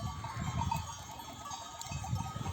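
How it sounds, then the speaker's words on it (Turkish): Sheep bleating in low, wavering calls over a steady outdoor background, a few overlapping voices from the flock, no talking. "O koyunlar"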